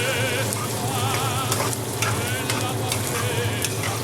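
Food sizzles steadily in a pan while being stirred, a continuous close frying hiss with faint scraping and bubbling throughout.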